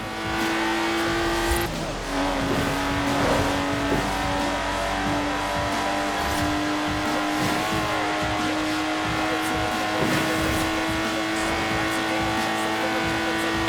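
A Lotus Exige engine drones steadily while driving in the racing game Forza Horizon 4, loud and close, with pitch shifts as it changes gear.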